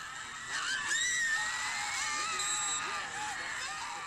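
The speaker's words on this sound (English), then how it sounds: "insert cell phone video and loud screams here." Shrill crowd screaming at a high school football game rises and holds, overlapping high-pitched voices cheering continuously from a distance.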